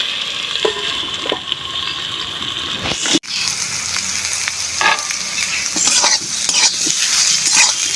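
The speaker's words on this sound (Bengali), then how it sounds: "বেগুনগুলো দিয়ে আমি একটু ভালো করে ভাজবো।" Eggplant sizzles and crackles in a hot pan while being stirred, with scraping and a brief clatter partway through, close and fairly loud.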